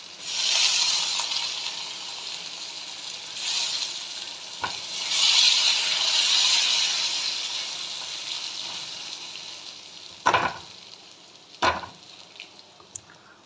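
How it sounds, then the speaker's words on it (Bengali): Washed, soaked Gobindobhog rice fries in a pan with a close, hissing sizzle that surges as it is stirred, followed near the end by a few sharp scrapes and knocks of the spoon. "চালটা আমি ভেজে নেব।"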